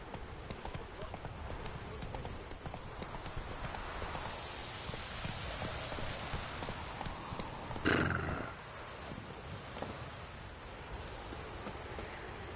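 Roach, the horse in The Witcher 3, gallops with steady rhythmic hoofbeats over a rainy road, with a brief whinny and a voice speaking over the clatter.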